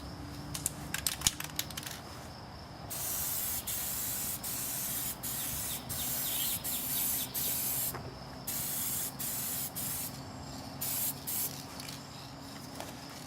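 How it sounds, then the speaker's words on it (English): A final coat of paint is sprayed onto a car panel during scratch repair, a loud, close, steady hiss in repeated passes broken by brief pauses, after a few light knocks at the start. "Give it a test spray and apply our last coat."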